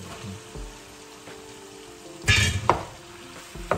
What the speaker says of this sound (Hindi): तो इस तरीके से हमने कीमे को जो है मिक्स करके थोड़ा सा भूनेंगे।